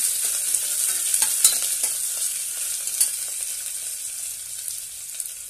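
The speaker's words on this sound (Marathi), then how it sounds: "एक कांदा बारीक उभा कट करून घेतलेला आहे तो घालूया। छानपैकी परतून घेऊया।" Thinly sliced onion sautéing in a hot oiled pan for vangi bhat, giving a steady, loud bright sizzle with scraping stir strokes and small crackling bursts throughout.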